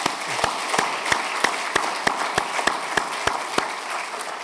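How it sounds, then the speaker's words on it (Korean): A church congregation applauds in welcome, with dense clapping and a regular, sharp beat running through it, steady and moderately close. "큰 박수로 환영하겠습니다."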